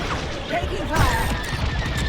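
Blaster bolts striking a starfighter in Star Wars Squadrons, a short crackling volley with a sharp impact crash near the middle, mixed with radio chatter and sci-fi whines.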